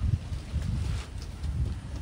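Night wind at a pigeon loft buffets the microphone in low, rumbling gusts, steady and fairly loud, with no voices.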